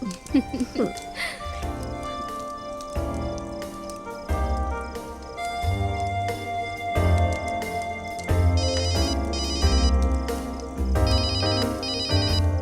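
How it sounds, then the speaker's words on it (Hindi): A phone ringtone plays a repeating electronic melody with a steady beat, fairly loud and continuous, with talk over parts of it. "रोहित, कम से कम ऐसी सिचुएशन पे तो फोन साइलेंट पे रखा कर"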